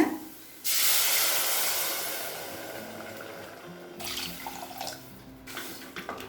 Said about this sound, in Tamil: இப்போ 2 கப் தண்ணி சேர்த்துக்கலாங்க.